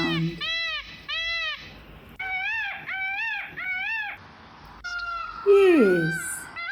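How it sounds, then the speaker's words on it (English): Peacock calls, several loud nasal wailing cries repeated in separate bursts, ending in a longer, louder downward-sliding scream. "a peacock. This is a peacock."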